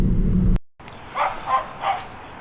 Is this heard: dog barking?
yes